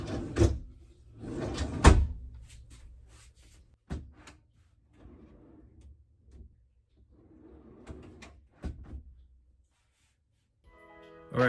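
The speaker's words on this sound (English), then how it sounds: "the hacked drawer is quieter than this original drawer." An IKEA AURDAL drawer slides open and shut several times, with soft rolling runs and sharp knocks as it stops, quiet gaps in between.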